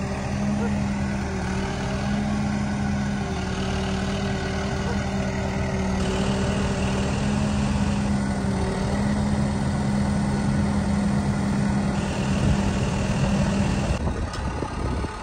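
A tractor-type excavator loader's diesel engine runs steadily, a low droning rumble with a strong hum throughout, while someone talks over it.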